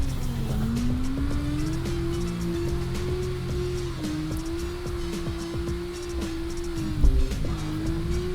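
A car drifts in the CarX Drift Racing Online video game, its engine droning steadily at a loud level, with pitch rises and dips as the throttle changes and tires scrubbing underneath, plus a brief bump near the end.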